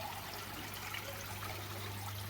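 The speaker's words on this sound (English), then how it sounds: "Over here we now have the DIY shower that we made earlier in the year running." Water runs from a homemade DIY shower in a quiet outdoor setting, making a soft, continuous trickle and splash over a low steady hum, with nobody speaking.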